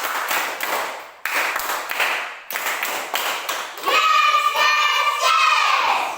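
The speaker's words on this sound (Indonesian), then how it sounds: "3 kali tepuk semangat" Classroom children clap in a brisk rhythmic spirit clap, three bursts of sharp claps separated by short pauses, close and loud, followed by a bright tonal electronic sound.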